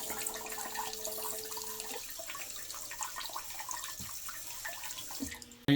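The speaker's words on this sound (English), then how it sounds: "It's working very well. Dispensing the water." A smart heated bidet seat dispenses water with a steady, faint trickling spray that fades after a couple of seconds into lighter drips and clicks, ending in a sharp nearby knock.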